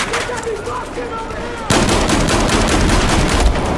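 USAS frag shotgun fire in a video game: loud, close, rapid automatic blasts that start abruptly and hammer on continuously, dense and dominating the mix.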